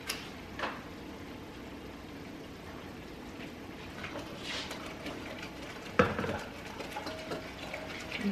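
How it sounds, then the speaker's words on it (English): Strawberry Jello mix whisked in a bowl after boiling water is added, light scraping and clinking of the whisk against the dish with a sharper knock near the end, close and fairly quiet. "Get that whisked up really good."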